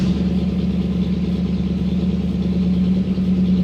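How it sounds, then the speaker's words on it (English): A car engine idles smoothly and steadily in a garage, a low even hum with a constant drone and no talk over it. "Just a great running car."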